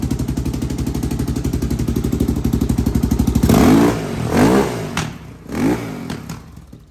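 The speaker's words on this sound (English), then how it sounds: "Revs up now." A Yamaha Raptor 660R quad engine idles with a fast, even loud thump, then revs hard in several rising bursts that drop back between blips.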